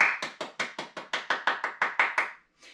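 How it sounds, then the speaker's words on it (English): Young children in a teddy bear dance class clap for themselves, a steady run of about a dozen sharp, evenly spaced claps close by, ending with one softer trailing clap. "Give yourselves a big clap."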